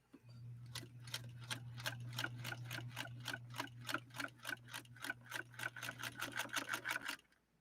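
A White Rotary sewing machine with a Swedish motor drives a size 18 needle through layered leather, giving a steady run of rapid, evenly spaced stitch clicks over a constant motor hum, close and alone, stopping abruptly at the end.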